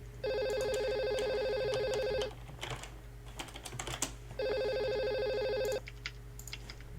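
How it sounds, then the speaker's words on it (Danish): A Steam call ringtone chimes on a computer in two bursts of a few seconds each, with quiet keyboard typing and clicks in between over a steady low hum. "der er en, der ringer"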